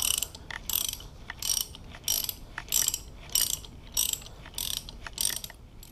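A speedo retainer is loosened and removed on a Suzuki DR650 motorcycle, heard as a close, even series of about ten bursts of ratcheting clicks with short pauses between them, and no talking.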